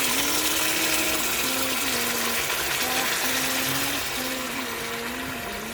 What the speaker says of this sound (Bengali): আমি এর মধ্যে আবার গরম জল ঢেলে দেবো।